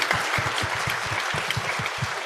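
An audience at a youth community day event claps for a performer, with steady close rhythmic clapping from a modest crowd, loud and continuous with no talk over it.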